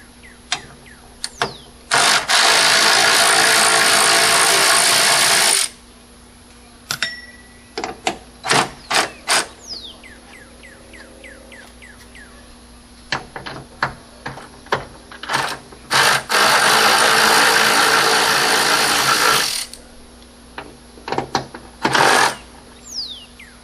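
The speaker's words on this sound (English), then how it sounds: "We're going to remove the back 2 bolts completely and just loosen up the front." Bolts (13 mm) coming off the hood of a 2010 VW Jetta, with two long, loud whirring tool bursts separated by a run of sharp clicks and taps, close by and with no talking.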